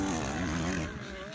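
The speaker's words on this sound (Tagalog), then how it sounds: "Ang bihirang tunog ng motor na yun, parang alien mga kaagri." A motorcycle engine passes close by with a loud, wavering whine that sweeps in pitch and then fades as it moves away.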